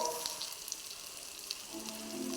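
Fried mango pieces dropped back into a hot pan give a quiet, continuous sizzle, dotted with small crackles and pops, heard alone without talk.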